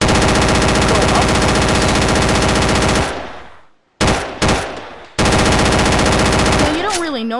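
A real machine gun fires a long, loud sustained burst at close range, then pauses and fires a few short bursts before another long continuous burst. A voice is heard briefly at the end.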